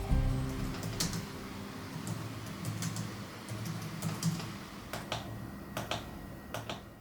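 Trackpad clicks on an Acer Aspire 5 entry-level laptop, a string of sharp, close clicks spaced irregularly over a low steady background hum, with no voices.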